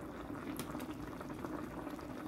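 A sardine and mushroom sauce simmers in a pan, giving a faint, steady bubbling with a few small pops, alone and quiet.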